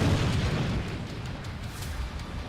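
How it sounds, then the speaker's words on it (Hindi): A D-30 howitzer fires on a front-line position in Zaporizhzhia, heard as a deep, distant boom whose low rumble swells at the start and then slowly fades. "जापोरिज़िया में रूसी सैनिक यूक्रेनी पोस्ट पर D-30 हॉइट्जर से हमले कर रहे हैं।"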